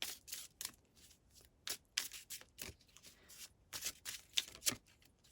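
A deck of tarot cards gets shuffled quietly up close, a series of soft riffling flicks and taps in an irregular rhythm.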